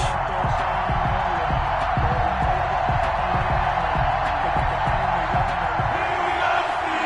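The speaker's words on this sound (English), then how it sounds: "This crowd is ready as their guys get set to match up between the Cleveland Browns and the Pittsburgh Steelers." A stadium crowd in an EA Sports football video game, at a Cleveland Browns versus Pittsburgh Steelers matchup, gives a steady, dense roar and cheer that holds at an even loudness throughout.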